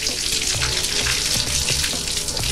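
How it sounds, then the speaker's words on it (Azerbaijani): Natural spring water bubbles up out of the ground at a burning spring in Astara, a dense, continuous fizzing and gurgling wash, loud and close, with no voices. "Su yerdən qaynayıb çıxır."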